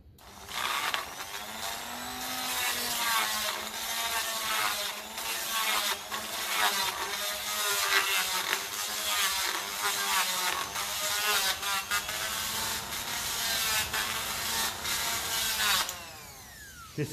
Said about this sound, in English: Grinding stone, so it's literally just doing the bare minimum.